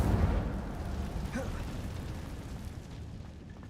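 Incendio fire spell cast in Hogwarts Legacy, a deep burst of flame that booms loudly at the start and then trails off into a long, fading roar.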